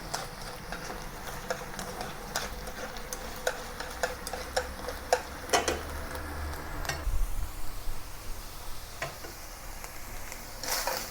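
Beef being stir-fried in a wok until dry for a spicy Sichuan beef and asparagus dish, a soft steady sizzle broken by frequent clicks and scrapes of the spatula against the pan, with no voices.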